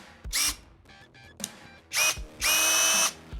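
A SKIL cordless drill whirs in brief, close bursts that start and stop, with a longer run at the end and small clicks between the bursts.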